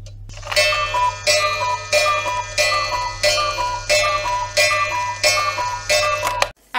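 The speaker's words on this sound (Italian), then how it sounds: "Adesso il cucù uscirà ovviamente quando l'orologio farà le 9." A handmade wooden cuckoo clock sounding a repeated two-note cuckoo call, about seven calls in a steady rhythm, close and clear, over a low background hum.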